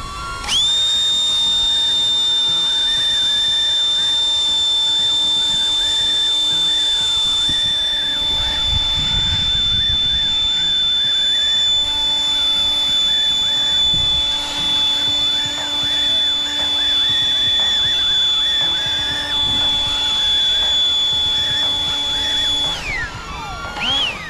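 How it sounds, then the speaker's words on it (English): An air blower aimed point-blank at a hovering DJI Neo drone gives a loud, steady whine with a sustained high tone and broadband rush that runs unbroken for over twenty seconds, then cuts off. "I'll go close to the drone and apply the air right from there"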